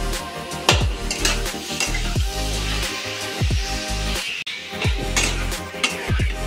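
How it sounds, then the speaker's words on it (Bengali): Raw mango chutney with red chili powder being stirred in a pan: a faint sizzle under repeated rhythmic scrapes and knocks of a spoon against the metal, close and steady. "একটু লাল লঙ্কার গুঁড়ো দিলাম, এরপর এটাকে একটু নাড়াচাড়া করে নিতে হবে।"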